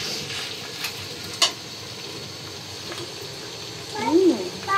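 Green chillies go into a vegetable bhaji frying in a pan, giving a soft continuous sizzle with stirring, one sharp clink early on and a louder burst of sizzling near the end.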